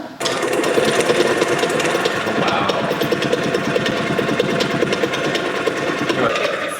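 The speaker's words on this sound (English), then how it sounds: "So we're gonna put it into our shaker." A Lancôme custom shade foundation shaker machine blending foundation gives a steady, loud mechanical rattling buzz that runs continuously throughout without pause.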